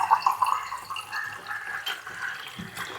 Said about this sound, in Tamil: ஒரு கப் தண்ணி விடுறோம்.